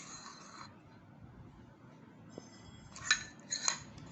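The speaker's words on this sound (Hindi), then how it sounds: "ये हमारे पास है मायोनीज़, ये हम इसमें डाल रहे हैं, और इसमें हम अच्छी तरह ये मायोनीज़ मिक्स करेंगे।" A spoon stirs mayonnaise in a bowl, giving faint soft scraping and a few light clinks of metal against the dish near the end, quiet and without talk.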